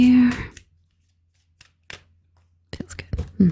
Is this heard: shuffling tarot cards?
yes